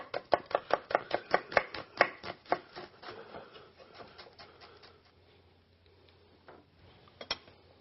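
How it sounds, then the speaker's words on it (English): A knife chops an onion into julienne strips on a cutting board, with a quick steady run of sharp, close taps that thin out and stop, then one last isolated cut. "Now the onion, we're just going to do a nice julienne on"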